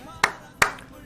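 Two sharp claps, close and distinct, spaced about a third of a second apart, each fading quickly into a quiet room.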